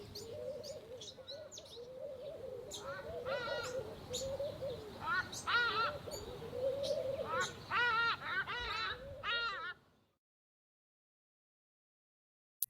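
Pin-tailed whydahs calling in a lively garden chorus, with repeated bright rising chirps and twittering phrases over a busy bed of other bird calls and cooing. The calling runs steadily for about ten seconds, then cuts to near silence.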